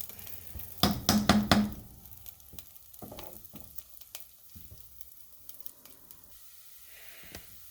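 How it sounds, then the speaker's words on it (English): Soft sizzling of rice and beef frying in a pan, with a burst of louder clatter near the start and scattered small knocks. "let this fry up for a bit"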